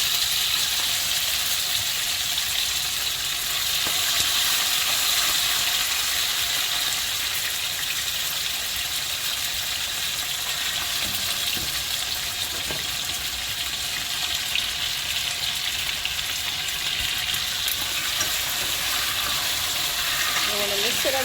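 Oxtail pieces frying in a pot, giving a steady, fairly loud hiss and sizzle throughout with a few faint clinks, no voices heard.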